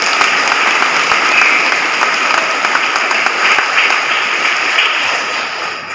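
A large crowd at a public gathering in Kefa, Timor, claps loudly and continuously, a dense roar of many hands that thins slightly near the end.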